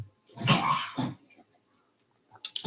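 An old dog with cancer coughs in a few harsh, throaty bursts indoors, close and fairly loud, followed by a short pause and a faint brief sound at the end.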